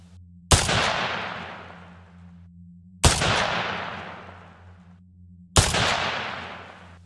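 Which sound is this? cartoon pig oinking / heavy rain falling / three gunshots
three gunshots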